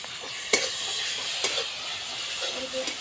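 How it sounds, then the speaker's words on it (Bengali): A coconut laddu mixture is stirred in a kadai over low heat, with a soft steady sizzle and hiss broken by a couple of sharp utensil scrapes and clinks against the pan. "আমি নাড়তেই থাকবো এটা, আর হালকা আঁচ থাকবে"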